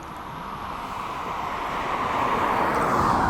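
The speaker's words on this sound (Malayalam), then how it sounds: "ഇതാ ഇറങ്ങുന്ന ഫ്ലൈറ്റ് അത് വരുന്നത്." An airplane landing at an airport in Malaysia, heard as a steady broadband jet roar that slowly swells louder over a few seconds, with no voices.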